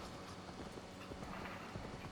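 Horse hooves clip-clop steadily while riding in Assassin's Creed Valhalla, a continuous close trotting patter over a dense game soundscape, with no voices.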